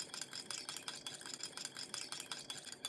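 A spoon stirs citric acid dissolved in water for homemade mozzarella, giving a steady run of light clinks and scrapes against the container, close and continuous with no talking.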